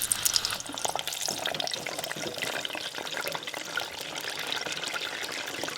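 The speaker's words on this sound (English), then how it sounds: "while our bacon is over there frying away" Oil at 350 degrees bubbles and crackles vigorously as pork belly deep-fries, a dense, steady sizzle close by with no talking.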